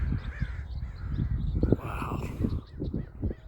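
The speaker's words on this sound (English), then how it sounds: "All the birds are out." Crows caw over the beach at Oceano Dunes, several harsh calls rising and falling against wind and surf, with a man briefly exclaiming partway through.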